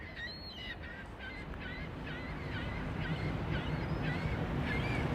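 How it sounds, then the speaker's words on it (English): Seagulls calling near the Blue Water Bridge over the river, a string of repeated sharp cries at moderate distance over steady waterside wind and wave noise. "Look at the seagulls."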